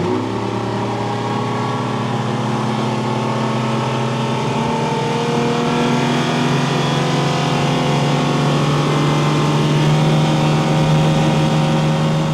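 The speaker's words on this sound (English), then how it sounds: "that's what the new 350 horsepower DES Yamaha looks like out on the water" A Yamaha 4.3L V6 350HP four-stroke outboard with DES pushes a boat across open water, a steady loud engine drone with rushing hull and water noise that swells slightly, with no voices.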